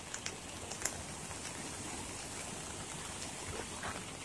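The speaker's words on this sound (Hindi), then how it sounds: "और बारिश हो रही है ना, तो बारिश की वजह से ये पानी काफी भर गया है" Steady rain falls as floodwater rushes past in a broad, constant roar, close and unbroken, with a few faint splashes on top.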